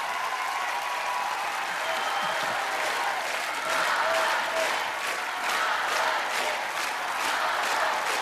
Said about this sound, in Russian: Послушай, послушай, овации.